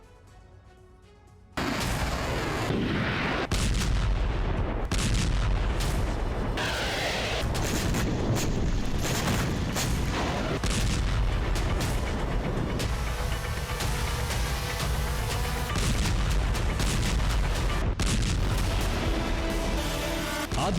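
Russian artillery strikes on Kyiv, Ukraine, rumble in a continuous roar of booms and blasts after a short quiet start, dense and loud throughout with no voices.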